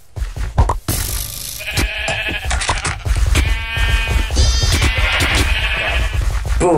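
Sheep bleat loudly in a video game, with many overlapping wavering cries that come in quick succession over busy game sounds and a few knocks.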